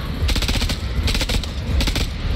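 An enemy rifle fires in sustained automatic bursts in the horror game House of Ashes: loud, rapid, close volleys in three clusters with brief gaps.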